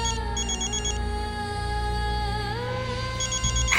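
Phone ringing with an incoming call, a bright electronic ringtone pattern repeating in short bursts over a steady tonal background, with no voices.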